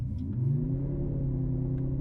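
A four-cylinder Mercedes-AMG C63 pulls away under launch control, its close, steady, deep engine rumble swelling and climbing in pitch, with no voices.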